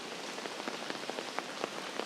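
Heavy rain in Geylang, Singapore, a dense steady hiss of downpour with scattered individual drops splashing close by on a hard surface, constant and unbroken.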